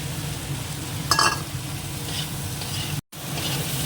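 Potatoes added to sizzling masala in a pan, a steady frying hiss with a sharp burst as they go in, then continued sizzling and faint stirring, no talk.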